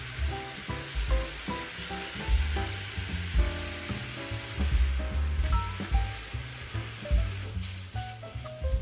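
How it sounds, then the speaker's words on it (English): Rice noodles stir-fried in a pan crackle and sizzle continuously, crispy outside and chewy inside, with rhythmic scraping and tossing of a utensil against the pan throughout. "Stirring until the noodles absorb the liquid."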